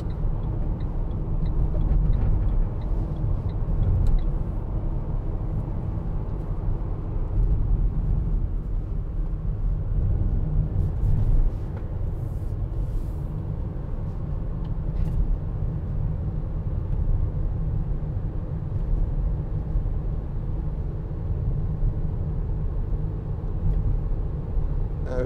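2019 Renault Trafic 1.6 dCi van rolling over road grids, heard from inside the cab as a steady low rumble of road and engine noise with faint rattles, no talk.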